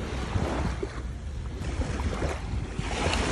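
Ocean waves wash onto a beach in China, a steady broadband surf roar that swells and recedes over a wind-buffeted microphone, with no voices.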